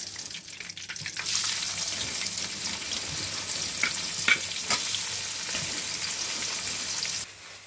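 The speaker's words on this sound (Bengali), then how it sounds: "পেঁয়াজটা আমার ভাজা হয়ে গেছে" Onions sizzle and crackle steadily in hot oil with cumin, close by, with occasional sharper pops and stirring sounds and no talking.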